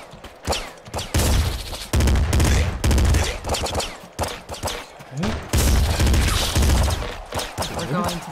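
Rapid bursts of assault rifle fire from the Nuclear Throne video game, loud and dense, arriving in several sustained volleys separated by brief gaps, with punchy low thumps under each burst.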